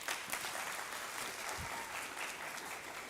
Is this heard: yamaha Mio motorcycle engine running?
no